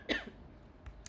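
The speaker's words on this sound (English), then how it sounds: "Pardon me, a lot of coughing today." A single short cough or throat clear, fairly close and moderately loud, followed by a brief fainter rasp near the end, with no talking.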